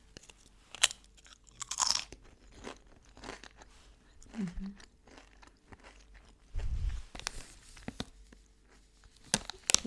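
Crunchy bites and chewing of ketchup-tomato flavored potato chips from Egypt, several separate close crunches spread unevenly across the stretch with quiet pauses and small crinkles between them.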